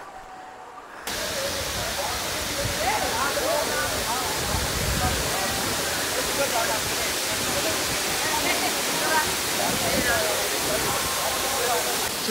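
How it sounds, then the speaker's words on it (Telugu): Mahitapuram waterfall roars as a steady, loud broadband rush of falling water close by, continuous after a brief quieter opening second, with faint voices in the background. "ఇదైతే మైతాపురంలోని వాటర్ ఫాల్స్"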